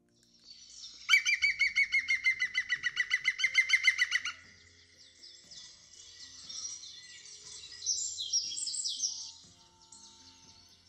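A recorded green woodpecker song plays as one loud, rapid series of laughing notes, followed by fainter, scattered calls in a quiet background.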